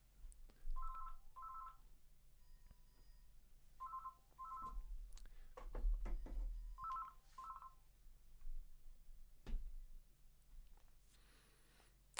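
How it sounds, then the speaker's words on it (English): A telephone rings in three double bursts spaced a couple of seconds apart, faint and a little distant, with quiet room noise and thumps between. "I'm sorry about this, my phone's ringing."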